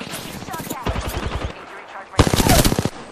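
Rapid automatic gunfire from an Apex Legends firefight, bursts of shots crackling close and loud, with a heavier volley near the end over game sounds.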